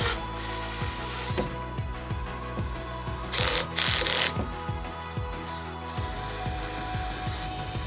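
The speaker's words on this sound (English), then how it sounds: "I'm going to use a 3/8 wrench to hold the nylock nut in place so I can get a nice installation of that screw" A hand ratchet clicks steadily, tightening a screw into a nylock nut held with a 3/8 wrench while fitting a standing support bar to a Hobie Mirage Passport 12 kayak. Rapid, regular pawl clicks continue with a couple of brief louder scrapes.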